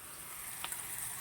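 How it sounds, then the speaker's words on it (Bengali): A vegetable curry of drumstick, potato, papaya and eggplant fries in a pan, giving a soft, steady sizzle that stays faint and close throughout with one brief brighter crackle. "আর এখানে হচ্ছে একটা তরকারি সবজি, ডাঁটা আলু পেঁপে বেগুন দিয়ে, এটা এখন ভালো করে কষাচ্ছি"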